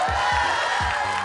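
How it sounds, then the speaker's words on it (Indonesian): A studio audience at the Olimpiade Indonesia Cerdas school quiz show claps and cheers in a dense, steady wash of noise through the whole moment, loud and close, with low thumps underneath. "Terima kasih dan tepuk tangan sekali lagi."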